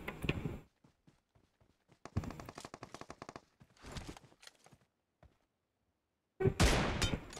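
Bursts of automatic gunfire from PUBG Mobile, several rapid volleys with short gaps, then a loud sustained blast of shots at the end, close and dominant with no talk over them.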